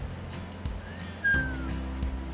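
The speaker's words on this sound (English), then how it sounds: "today we're checking out the Whistling Rocks" The Whistling Rocks blowhole at Streaky Bay gives off a faint thin whistle over steady wind and surf rumble on a coastal rock shelf.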